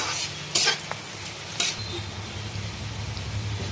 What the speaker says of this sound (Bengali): পেঁয়াজটা একটু গোল্ডেন কালার করে ভাজবো